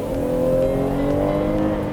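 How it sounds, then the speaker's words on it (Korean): A Chevrolet Traverse with a 3.6-litre V6 gasoline engine of 314 horsepower and a nine-speed automatic accelerates hard from a reduced speed, giving a loud, steady, deep engine drone heard from inside the cabin, with no speech. "제가 속도를 좀 줄였다가 갑자기 이렇게 좀 치고 나가보면"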